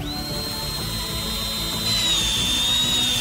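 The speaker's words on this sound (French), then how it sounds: "Percez un trou sur le côté avec un tournevis." A power driver bores a hole into the side of a large pipe, giving a continuous high motor whine over a gritty grinding rumble. It grows slightly louder partway through.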